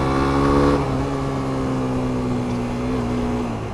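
A 125cc motorcycle accelerating in third gear, a steady close engine drone with a gently climbing pitch, loud and continuous with no talk.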